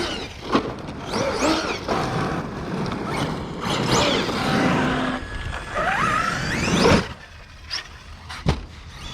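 A Traxxas Sledge RC truck fitted with a Castle Mamba Monster X 8S system and 23-tooth pinion gives loud close bursts of rising electric motor whine, several quick throttle blips with gaps between.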